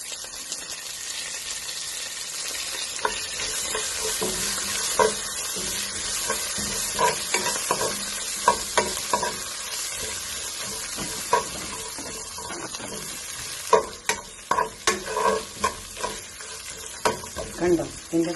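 Garlic, dried chillies and curry leaves fry in very hot oil, a continuous crackling sizzle with repeated scrapes and knocks of a stirring spoon against the pan, close and fairly loud.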